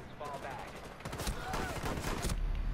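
Video game gunfire, including revolver shots, crackles in a rapid burst of sharp reports through the second half, layered over steady game background noise.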